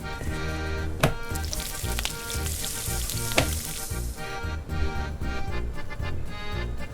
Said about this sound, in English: get yourself a little silver dollar size patty and fry that thing up and check for seasoning